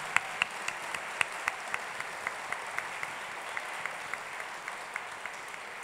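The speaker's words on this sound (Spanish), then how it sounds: "un aplauso enorme para todos los que hacen teatro en este país" An audience at a children's and youth theatre awards ceremony applauds steadily, a dense, fairly quiet wash of clapping with a few sharper individual claps standing out, continuous throughout.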